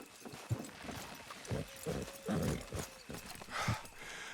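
Horse hooves clip-clop steadily on the ground while a horse neighs in Red Dead Redemption II, with a busy, noisy background throughout.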